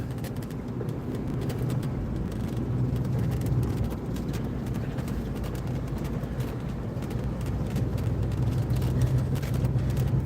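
A car rolls over a rough road along old Route 66 at Two Guns, Arizona, with a steady low rumble, road noise and a faint rattle that persist throughout.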